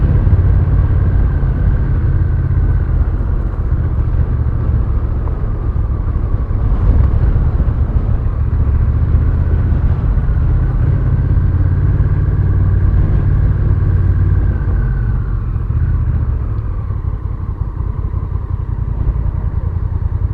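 Motorcycle riding steadily onto a gravel road near Lake Mead and Boulder City, its engine a loud continuous rumble with wind buffeting the microphone.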